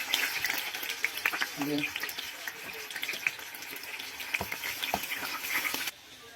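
Shrimp tipped into a pan and frying for a creamy spaghetti sauce, a dense crackling sizzle with sharp pops and clatter throughout, close and moderately loud, a voice speaking briefly over it.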